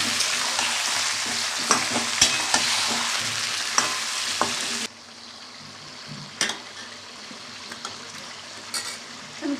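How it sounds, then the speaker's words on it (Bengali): Chicken meat fries and gets stirred in a pan, a loud continuous sizzle with scraping utensil clicks that drops to a quieter bubbling sizzle halfway through. "মাংসটা আমি ভালো করে ভেজে নেব।"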